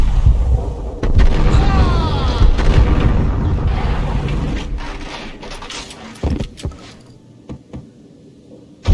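Gunfire and heavy booms from the Max Payne video game, a loud dense barrage that fades and thins out toward the end into a few scattered pops.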